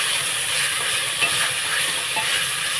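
Carrots, beans, knol-khol and potatoes frying in a pan for vegetable pulao: a continuous dense sizzle with faint stirring scrapes, close and steady throughout.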